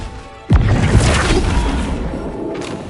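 Confringo spell in Hogwarts Legacy, a sudden loud explosive boom after a brief quiet, followed by a heavy rumbling crash that slowly dies away over a couple of seconds.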